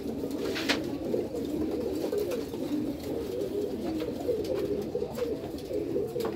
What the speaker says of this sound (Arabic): عايزك تركز بقى لصوت الحمام بقى يبقى عامل ازاي.